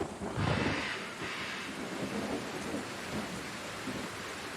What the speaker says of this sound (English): I hear thunder in the background.